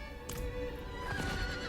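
A horse neighs in the video game Diablo 4, a loud whinny over a steady background of hooves clip-clopping, with no talk.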